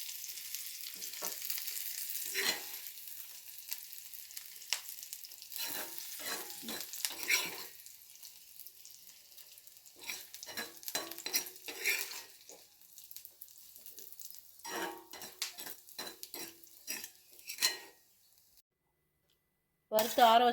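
Roasted neem flower ingredients scraped from a hot pan onto a plate: repeated dry scraping and clattering spoon strokes with a faint lingering sizzle, close by, in short bursts separated by quiet gaps.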